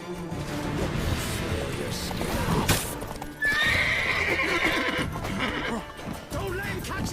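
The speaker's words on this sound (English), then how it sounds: "Whoa there, Roach." Roach, the horse in the video game The Witcher 3, gallops with rapid hoofbeats and lets out a loud, shrill whinny midway, set against busy game sound effects and a voice.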